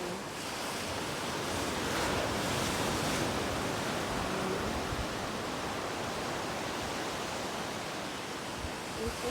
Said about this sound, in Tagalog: Para lang mapakita itong dagat na ito.